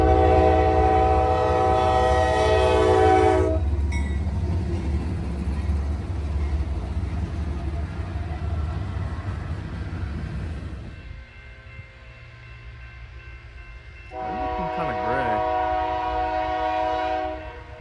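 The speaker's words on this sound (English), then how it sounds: "Final CSX Heritage unit I saw was 1853, the New York Central unit." A CSX heritage locomotive, the New York Central unit 1853, sounds a loud chord horn as it passes, then its wheels rumble and clatter along the rails. A second horn blast follows near the end.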